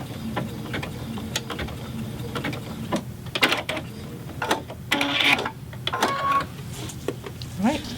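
A serger stitches a face mask strap in bursts of rapid mechanical whirring and clicking, close by and stopping and starting, with room noise and some voice activity underneath.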